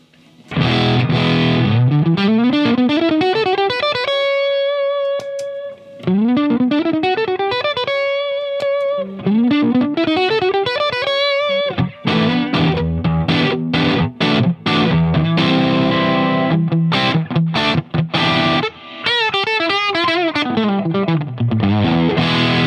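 Electric guitar driven through a Rodenberg SL OD signature overdrive pedal with its +20 dB boost switched on, loud distorted runs, sustained bends and choppy chords played continuously with brief pauses between phrases.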